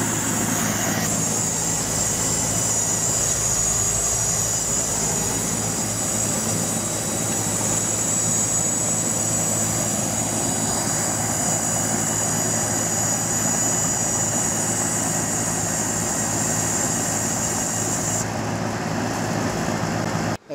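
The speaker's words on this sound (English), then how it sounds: "I'm gonna cut to a little video of the noise the compressor's making" A failing Goodman condenser compressor runs noisily outdoors, a loud continuous mechanical drone with a steady hum and high whine, unbroken by speech until a brief cutoff at the end.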